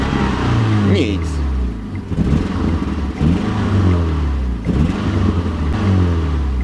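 A car engine revs repeatedly after a washer fell into it, rising and falling surges of a mid-pitched motor, loud and close, with voices talking over the revs.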